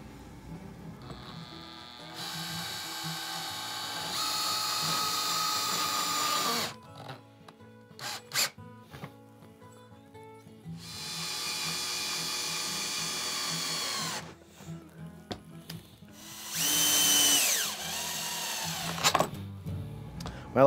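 A power drill mounts hooks onto a forged rustic coat rack, running in three sustained whining bursts with clicks and handling knocks between them.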